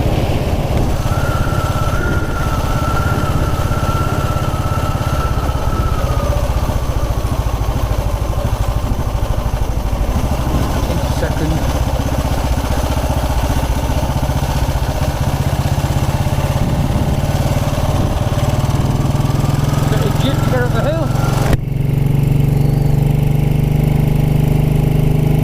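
Engine of a 1929 black Ariel motorcycle riding along country lanes, a steady mid-pitched thrum with wind noise, rising slightly in revs and shifting near the end.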